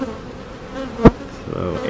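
Honey bees hum around open hives during a routine inspection, a soft steady buzz with one brief louder burst as a bee passes close by.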